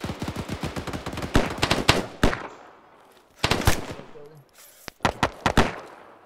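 Rapid bursts of automatic gunfire from the military shooter game ArmA: dense, loud volleys crackle at the start, pause, then return in sharper separated shots and short bursts.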